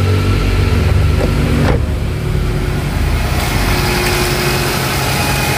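A Nissan Grand Livina engine idling cold, a steady low, smooth hum that holds constant close by, with a brief mechanical whir partway through and no talking.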